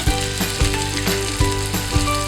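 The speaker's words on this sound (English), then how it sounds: "Just use the pan you have and add a little bit of oil and put everything you just mixed" Okonomiyaki batter cooks in a little oil in a pan, giving a steady close sizzle with a few soft knocks and scrapes at irregular intervals and no talk.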